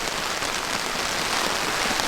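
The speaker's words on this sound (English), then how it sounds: "he doesn't like the noise of the tarp with the heavy rain on it" Heavy rain drums on a tent tarp in a dense, continuous hiss, close and steady with no voices.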